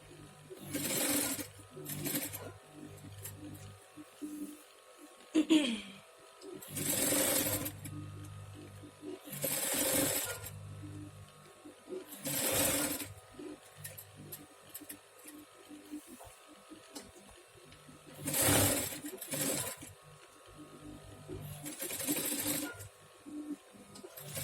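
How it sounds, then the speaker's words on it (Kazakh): An overlock sewing machine stitches the edge of a vest in loud, repeated bursts of whirring a few seconds apart, with a person talking between the runs. "Сол үшін қазір тігіп аламыз."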